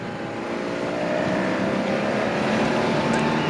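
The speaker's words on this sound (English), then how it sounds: "You could hear the throttle firmly open up as the road straightened up." Race motorbike engine at the Tour de France stage 14 revving as the throttle opens on a straightening road, a loud steady drone close by that builds slightly over a few seconds.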